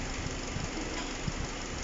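A GAC GS4 engine idles with a steady low rumble and faint knocking texture, close and continuous with no talk over it; the engine has been overheating from no coolant and a clogged radiator.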